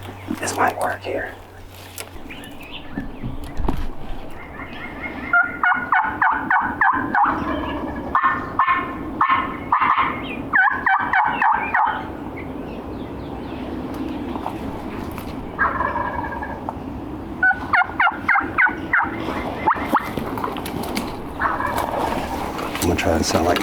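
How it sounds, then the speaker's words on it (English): A wild turkey gobbles repeatedly during a midday spring hunt, several rapid rattling gobbles at a distance with pauses between them, while hunters whisper softly nearby. "He's still gobbling every 10 seconds."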